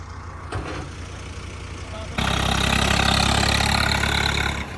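A tractor engine idles with a low steady rumble, then jumps suddenly louder and rougher for a few seconds before dropping slightly at the end.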